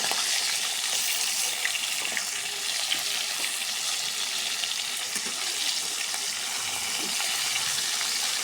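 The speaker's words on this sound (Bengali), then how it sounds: "মাছটা ভাজা হয়ে গেছে আমার, এখন আমি তুলে নেব।" Fish fries in hot oil in a pan with a steady, moderate sizzle scattered with small crackles and pops, heard close and alone.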